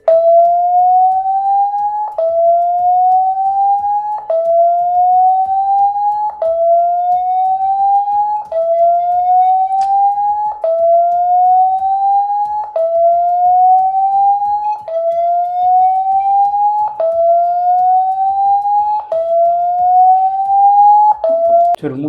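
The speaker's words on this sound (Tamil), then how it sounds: "இதை எனேபிள் பண்ணிங்கன்னா ஒரு சவுண்டு வந்து ஒரு 30 செகண்டுக்கு ப்ளே ஆகும்." A Poco X3 phone speaker plays its loud alarm tone: a repeating rising electronic siren-like sweep, each about two seconds long, cycling steadily and evenly for over twenty seconds before cutting off at the end.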